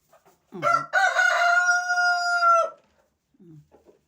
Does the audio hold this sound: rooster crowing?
yes